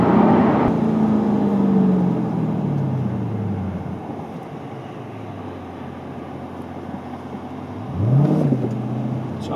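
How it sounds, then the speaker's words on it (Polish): A deep V8 engine of a Dodge Challenger R/T 6.4 SRT rumbles close by, its pitch falling as it eases off, then rising sharply in a quick rev near the end. "Uważać z wciśnięciem pedału gazu, bo jednak silnik SRT ma potencjał na dole."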